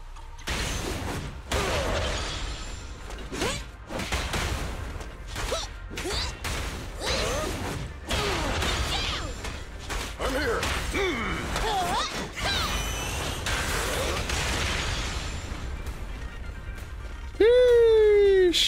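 Heavy fire-damage attack effects in the Zenless Zone Zero video game: a dense run of crashing, whooshing hits and impacts that stays loud throughout, ending with a bright rising tone.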